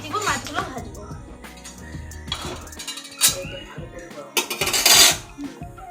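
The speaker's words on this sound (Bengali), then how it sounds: "এবং কড়াইটা বসিয়ে দিব," A kadai, or wok, is set onto a lit outdoor clay stove before frying pomfret, giving a few metallic clanks and knocks under ongoing talk.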